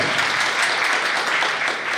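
A crowd applauds with dense, steady clapping that stays fairly loud for a couple of seconds.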